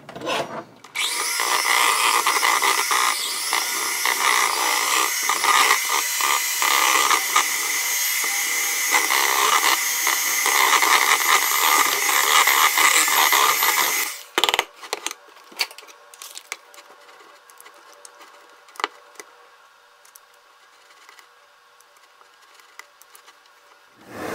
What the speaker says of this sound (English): now I'm going to use my hand mixer to get this well incorporated